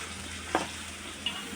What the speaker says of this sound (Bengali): এখানে আমি সবজি ভাজি করব, তার জন্য পেঁয়াজ দিয়ে দিচ্ছি।